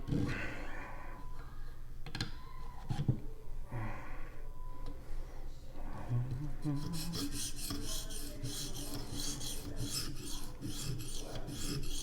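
Knife blade drawn across the stones of a Vipersharp sharpener, close repeated rasping strokes in an even back-and-forth rhythm, with a brighter, hissier scraping toward the end.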